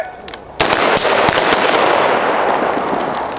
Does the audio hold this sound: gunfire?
yes